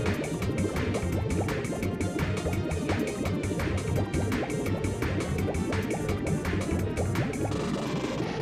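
Bubbly, dripping underwater water sounds from the Ape Escape video game play steadily with a rhythmic game-music pulse, continuous and fairly quiet with no talking.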